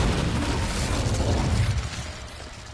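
Incendio fire spell cast in Hogwarts Legacy on PS5: a loud, broad whooshing burst of flame with a deep rumbling low end, sustained for a couple of seconds before thinning out.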